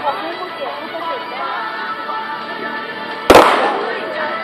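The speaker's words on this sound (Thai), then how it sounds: "ทำหนึ่งนัดครับเป็นกระสุนซ้อมรบนะครับ" A single sharp report from a rifle firing a blank training round goes off during a military special-operations drill, loud and abrupt over a background of crowd chatter and an amplified voice.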